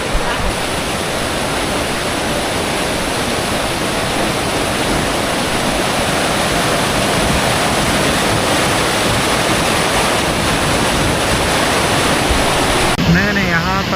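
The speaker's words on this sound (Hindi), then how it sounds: "आप देखें तो साइड से पानी आ रहा है और यही पानी नीचे अभी हमारे बिल्कुल पास पहुँच रहा है" Glacier meltwater stream rushing down a slope close by at a glacier spot in Gilgit, Pakistan, a loud, dense, unbroken roar of water throughout, with a brief change in the noise near the end.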